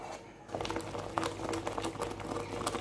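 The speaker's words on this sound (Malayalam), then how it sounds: "അപ്പോൾ ഇതിനൊന്ന് വഴറ്റിയെടുക്കാം" Masala for a fish curry bubbles and sizzles softly in a pan, a quiet, continuous sauté that starts after a brief hush and carries on with light patter.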